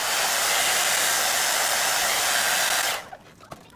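A hair dryer blows steadily and loudly on acrylic paint cells poured over wood and tile, a constant close whoosh that cuts off abruptly near the end, leaving a few faint knocks.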